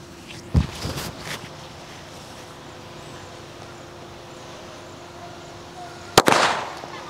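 A Money Bank Diwali firecracker, a two-sound colour cracker, goes off in two sharp bangs several seconds apart, the second louder and trailing into a brief crackle.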